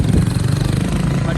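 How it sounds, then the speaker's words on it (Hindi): Motorbike engines in a convoy on the Hemkund Sahib pilgrimage route rumble and drone steadily close by, a continuous low throbbing with no break. "ये अपना बाइक का काफिला"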